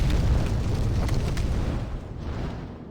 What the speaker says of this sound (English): as long as he's over there breathing fire, we have a chance to grab these